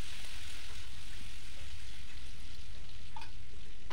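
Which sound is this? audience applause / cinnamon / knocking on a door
cinnamon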